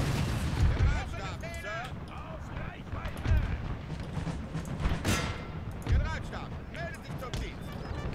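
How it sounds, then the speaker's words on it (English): Artillery fire in the video game Napoleon: Total War: repeated cannon booms and crackling battle gunfire fill a dense, continuous mix of combat noise. "Cannons engage."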